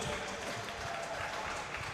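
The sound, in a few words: audience applause after final charity boxing bout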